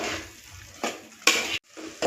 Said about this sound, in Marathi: व्यवस्थित आपण याला आता परतून घेऊया.